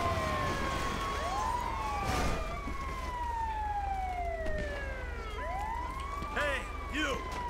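Wailing ambulance siren in Grand Theft Auto V with rising and falling sweeps, loud and continuous over a low engine rumble, with other siren tones overlapping.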